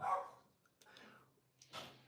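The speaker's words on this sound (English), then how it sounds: "Dog barking." A dog barks a few times at a distance, the barks spaced out and somewhat muffled against a quiet background.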